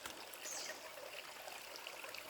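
Freshwater stream flowing steadily beneath a canopy of old native trees, a soft, continuous trickle and babble heard alone at moderate distance.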